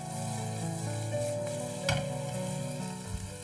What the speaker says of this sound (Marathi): आपलं परतून घ्यायचं नीट. परतून घ्यायचं छानपैकी असं टॉस करून घ्या.